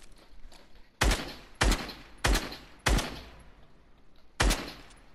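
Video game gunfire rings out as five sharp, loud single shots spaced about half a second to a second and a half apart, each decaying quickly over a quiet background.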